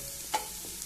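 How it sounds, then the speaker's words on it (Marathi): Onion and ginger fry gently in a pan over a low flame, giving a faint steady sizzle with a single soft scrape of a spoon partway through. "आलें आतां ही बरी बारीक गॅसीर भाजूया"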